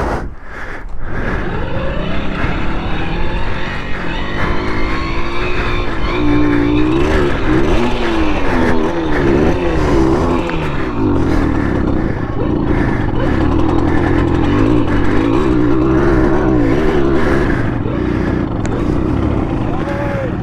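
A Simson moped engine runs continuously during carburetor adjustment, a loud buzzing two-stroke drone that rises and falls in pitch as the revs are varied, with a person talking over it.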